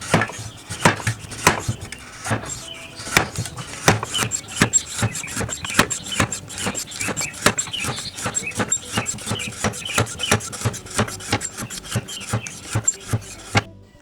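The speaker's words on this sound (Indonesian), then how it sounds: "Ini saya menggunakan alat pemotong kerupuk sederhana yang cukup unik ya." A simple hand-operated cracker cutter slices through pete (stink bean) cracker dough in a home kitchen, giving a long run of sharp, evenly spaced chopping knocks that sound close and fairly loud, with no talking.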